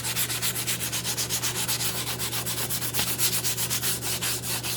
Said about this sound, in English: basically just kind of wet sand it